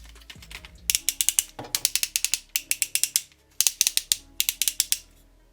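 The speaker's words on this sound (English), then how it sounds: "Actual proper sounding ratchets." Ratchet joints on a Transformers Studio Series 86 Leader-class Snarl Dinobot toy, clicking in quick rapid bursts of sharp mechanical clicks, several separate runs close up with short pauses between them, no talking.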